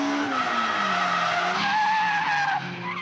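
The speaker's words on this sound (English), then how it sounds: "drifting is leaving the streets and becoming a track sport known as D1 racing" A car drifts on a track in D1 racing, its tires squealing in a long, loud, wavering skid over a constant engine roar.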